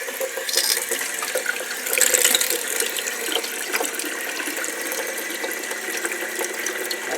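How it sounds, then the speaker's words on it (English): Water runs through the plumbing of a 1974 GMC RV during system testing and sanitation, a steady close rush from the tap with the water pump running and faint mechanical clicks, swelling briefly about two seconds in. "So run the water through a couple systems."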